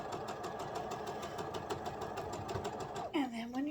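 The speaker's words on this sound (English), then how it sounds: "Just sew a straight line down there." A home sewing machine stitching quilt binding in a straight line, running at a steady rapid chatter throughout with a rhythmic mechanical pulse, close and clear, with a rising whine as it slows near the end.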